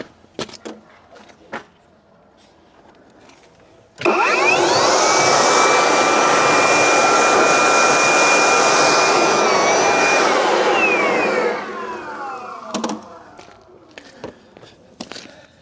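A leaf blower roars loudly and steadily for several seconds, blowing debris out of a Takeuchi TL12R2 track loader, then winds down, with scattered clicks and thumps before and after.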